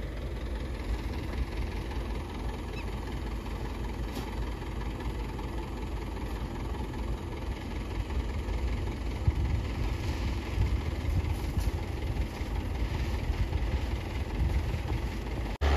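A farm tractor drives away during wheat sowing in village fields, its steady low engine rumble droning continuously at moderate distance with no talk over it.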